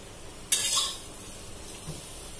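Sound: fried food being transferred from the pan onto a plate

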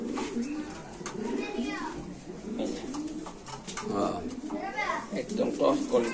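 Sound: pigeon cooing

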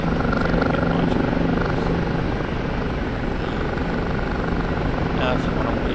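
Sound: Kiowa helicopter flying, from a video game

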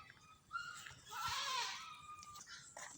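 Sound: goat

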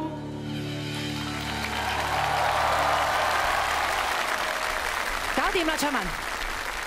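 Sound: audience applause

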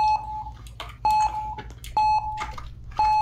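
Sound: auto start alarm beeping in a video game

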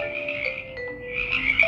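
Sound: frog croaking

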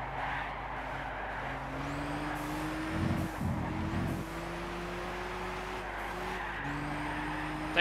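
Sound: race car skidding in Gran Turismo 6, video game

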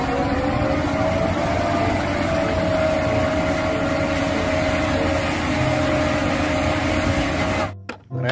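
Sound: toy cement mixer truck engine

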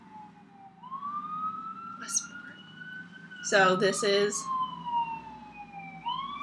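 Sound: emergency vehicle sirens

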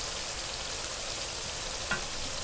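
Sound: green chillies frying on high flame

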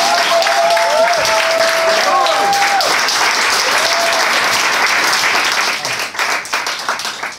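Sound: audience applause

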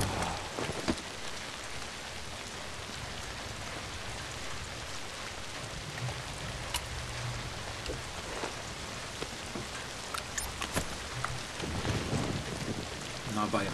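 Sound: rain in the video game Zombi

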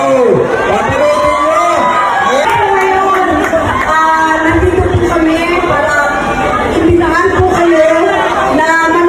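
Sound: fans screaming at SM City Pampanga mall show

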